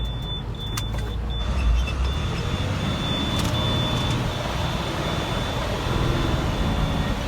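International 4300 truck with a DT466 inline-six diesel running smooth, a steady low engine rumble with constant drone, heard from inside the cab with no talking.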